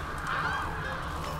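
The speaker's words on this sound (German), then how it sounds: "Und hier sind Raben." Ravens call in The Witcher 3: Wild Hunt, heard as a hoarse, honking croak that swells and fades within a steady ambient game bed, moderately loud and without speech.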